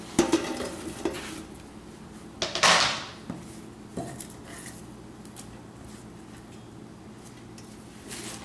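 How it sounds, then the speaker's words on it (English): Cabbage, onions and bacon being mixed in a pot, a few scraping and clattering utensil knocks against the pan, strongest early on, then quieter stirring with no talk. "Get the onions and the bacon, cabbage all mixed through."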